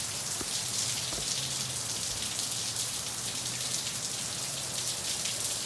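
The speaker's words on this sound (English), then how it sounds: "I'm gonna have to wait for this rain to subside a little bit because it's getting kind of noisy" Heavy rain falls in the Arizona desert, a constant loud wash of drops drumming on the ground and nearby surfaces, unbroken throughout with scattered sharper splatters.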